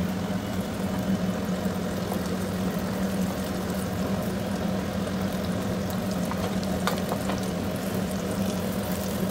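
An egg kebab frying in a pan after being flipped, giving a steady, even sizzle that holds at a constant level throughout with a low hum underneath.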